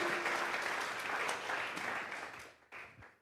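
A church congregation applauding loudly and continuously, dense clapping that fades toward the end with a brief final burst.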